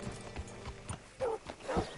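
Horse hooves clop unevenly at a walk in the video game Red Dead Redemption 2, faint and slightly distant, with a brief snort or whinny-like sound partway through.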